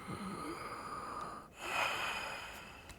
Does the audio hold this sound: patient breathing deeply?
yes